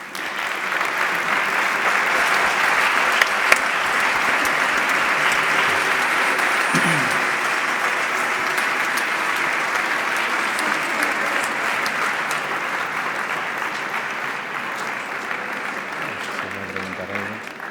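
Audience applauding after an inaugural art talk and conversation, sustained loud dense clapping from a large crowd lasting many seconds with steady intensity and a few sharper claps.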